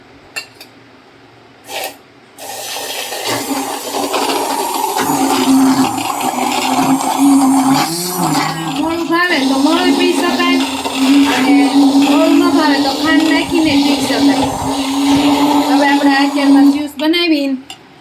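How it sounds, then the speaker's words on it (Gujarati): A blender making juice with water whirs loudly and steadily for about fifteen seconds after a few brief knocks, its pitch wavering slightly as it churns, then cuts off. "અને બ્લેન્ડર વડે આપણે એનું જ્યુસ બનાવી લઈશું"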